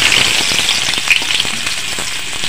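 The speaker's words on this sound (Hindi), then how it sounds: "देखिए तेल गरम हो गया है, हम इसी में आलू डाल देंगे। आलू के फ्राई कर लेंगे लाल करके।" Small potatoes frying in hot oil for Bihari-style dum aloo, a loud, dense, continuous bubbling hiss right up close, with no voices.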